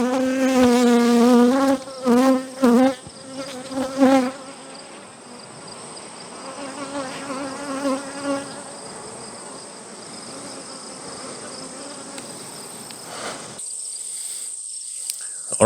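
Bees buzz close around a beekeeper, loud wavering drones rising and falling as they circle near the microphone. The buzzing later settles into a steadier hum, with a thin high whine in the background.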